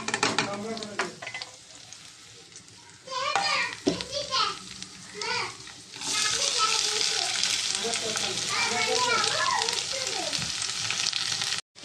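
Okra pieces dropped into hot tempering oil and stirred, an uneven sizzle that swells into a steady loud fry, with children's voices chattering in the background throughout.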